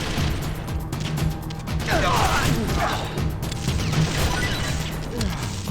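Gunfire in Metal Gear Solid: The Twin Snakes: a dense, busy stretch of sharp impacts and mechanical clatter, with repeated shots mixed into game noise and occasional voices underneath.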